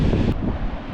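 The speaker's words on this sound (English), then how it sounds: "I'm glad it's a little bit less windy than it was in my" Steady low rumble of wind buffeting outdoors on the Big Sur coast, continuous and fairly loud for just under a second.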